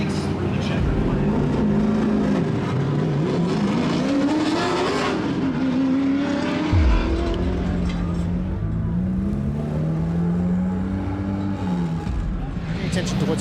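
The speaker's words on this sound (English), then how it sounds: "the Audi streaks through the checkered flag." An Audi S1 Group B race car crosses the Pikes Peak finish, its engine revving and shifting up and down in pitch while a commentator talks over it.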